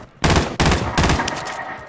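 Loud Call of Duty Modern Warfare gunfire on Rebirth Island in Warzone comes in three close, rapid bursts that ring out over a dense, noisy backdrop.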